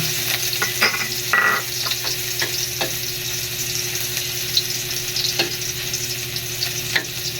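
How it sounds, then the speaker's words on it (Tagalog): Ginger sizzles in hot cooking oil in a pan, a steady frying crackle with a few sharper spatters and stirring clinks scattered through. Nobody speaks. "mainit yung mantika, ilagay natin yung luya. Igisa lang natin yung luya."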